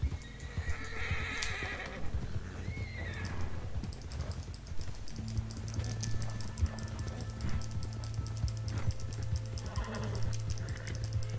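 In the video game Red Dead Redemption Online, a horse whinnies near the start, then hooves clop along steadily under a low hum, with soft clicking like keys tapping throughout.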